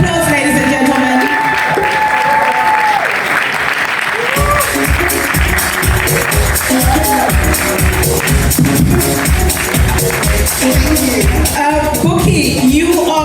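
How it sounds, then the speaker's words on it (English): Loud, sustained audience applause with scattered cheers and shouts greets the winner of the Black Excellence 2025 Lead Entrepreneur award, with a voice heard over the clapping near the start. "Round of applause, ladies and gentlemen."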